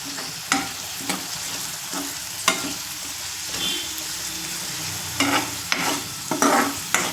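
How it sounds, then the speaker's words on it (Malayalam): Onion, coriander, curry leaves and garlic sauté in hot oil with a steady close sizzle, broken by repeated sharp scrapes and knocks of a spatula stirring the pan. "ഇതാ നമ്മളിപ്പോൾ അതൊക്കെ എണ്ണയിലേക്ക് ഇട്ടിട്ടുണ്ട്. ഇതൊന്ന് നന്നായി വഴറ്റിയെടുക്കാം കേട്ടോ."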